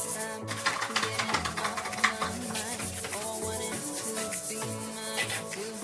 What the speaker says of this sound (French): Je vais venir frotter bien.